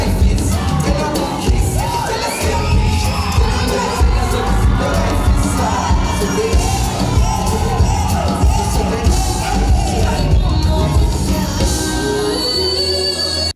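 A big concert crowd cheers and shouts for the performers, who are performing their hit. The roar is loud and constant, full of whoops and high yells, with music thumping underneath.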